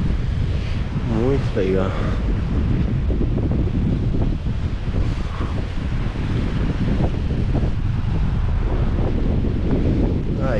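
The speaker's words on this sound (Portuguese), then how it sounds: "tá batendo um ventinho gostoso, uma brisa" A breeze gusts steadily across the coastal trail near Garopaba beach in Santa Catarina, a continuous close wind rush on the microphone with a faint surf wash beneath, while a person speaks briefly.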